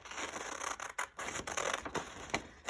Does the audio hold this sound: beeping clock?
no